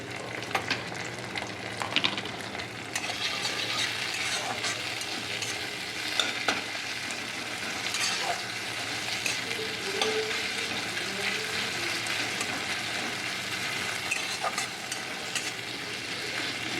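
Ginger and garlic paste fries in a pan with a steady, close sizzle, broken by occasional scraping stirs throughout, with no talking.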